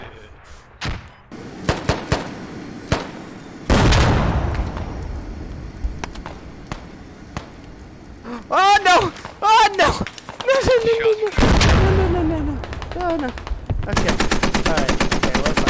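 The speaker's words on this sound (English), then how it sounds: "The shots are coming from the northwest." Video game gunfire cracks in sharp single shots and rapid bursts, close and loud, with heavier blasts and sustained automatic fire toward the end, while someone talks over the action.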